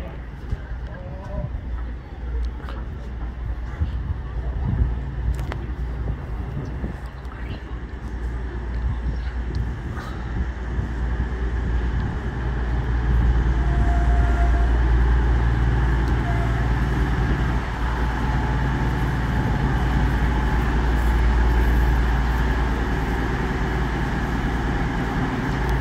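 A train at Leicester station rumbles steadily on the platform with a loud low-pitched engine drone that swells midway, mixed with faint station ambience.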